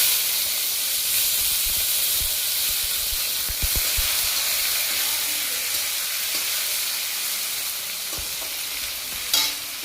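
Carrots tossed into hot oil with dried chili, bay leaves and whole garam masala for veg pulao, giving a steady close sizzling hiss with a few stirring scrapes and clinks, no voices.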